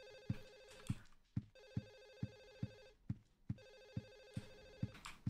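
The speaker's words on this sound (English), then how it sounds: "There's a phone ringing somewhere." A telephone rings in the Silent Hill 4 video game, a repeating electronic bell in three long bursts separated by short pauses, clear and steady against quiet surroundings.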